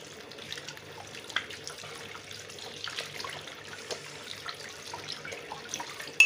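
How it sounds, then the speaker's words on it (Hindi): Tap water running at a kitchen sink while hands are washed in winter, a soft steady stream with light splashing and occasional small knocks, fairly close and quiet. "तो चलिए पहले धोते हैं हाथ।"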